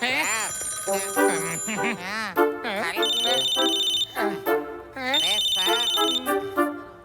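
A phone ringtone plays repeatedly in loud melodic bursts with brief gaps between them.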